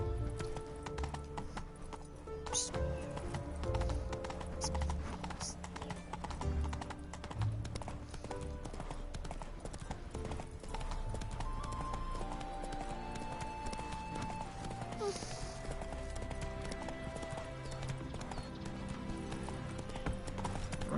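Hooves of the horse Roach galloping in The Witcher 3 video game, a fast steady clip-clop under game music and ambience, fairly faint.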